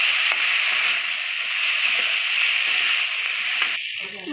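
Onion, ginger, green chili and garlic masala sizzles loudly in a hot pan as it is stirred and fried, a steady broadband hiss. A voice enters near the end.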